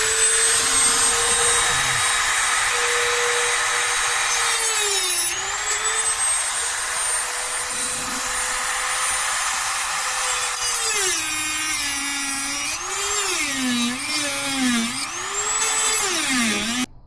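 Power tool cutting through a stripped bolt on a third-generation Toyota 4Runner, a continuous high whine that dips and wavers in pitch as it bites into the metal, loud and close with no talk.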